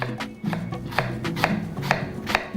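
A knife slices fennel on a cutting board for a polenta dish, giving about nine crisp, evenly spaced chops in a steady rhythm, close and clear with no talking.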